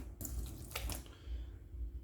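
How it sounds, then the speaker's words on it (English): Distilled water being tipped out of a large jug into a sink, giving a steady splashing pour with a couple of brief louder gushes over a continuous low rumble. "we can tip a little bit out just over the sink"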